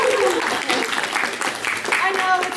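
Audience clapping after a close-up magic trick, a short burst of applause mixed with voices and chatter from the crowd.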